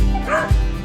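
A dog gives a single close, loud yipping bark with a whimpering edge, one brief outburst from a pet dog about to head outside.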